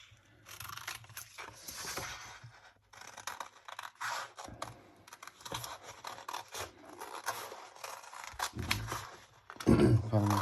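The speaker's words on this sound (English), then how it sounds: "We'll cut this out if I knew where my scissors were." Scissors snip repeatedly at close range, with crisp cutting and scraping bursts in an irregular rhythm, while someone talks intermittently.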